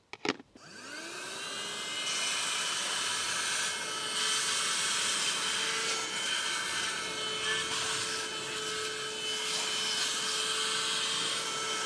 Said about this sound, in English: This is doing pretty quick work of cleaning out the seat here